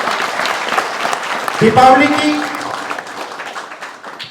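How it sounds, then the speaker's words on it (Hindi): Audience applause at a public gathering honouring a martyr, moderate clapping with a voice speaking over it in the middle. "जोरदार तालियां।"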